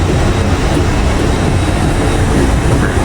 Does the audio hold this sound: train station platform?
yes